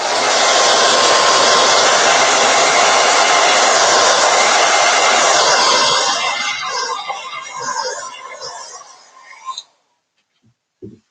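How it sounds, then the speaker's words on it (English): A hair dryer blasts steadily at close range to dry chalk paint on the back of a Dollar Tree journal, a loud continuous rushing whoosh that runs for several seconds and then winds down and cuts off. "I'll just put the hairdryer on it real quick."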